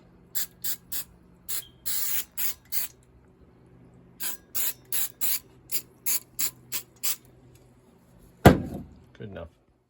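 Short bursts of aerosol rust-proofing spray hiss inside a car body's cavities, with a quick run of spurts, a pause, then another volley. Each burst is close and sharp, and a clunk and brief rustle follow near the end.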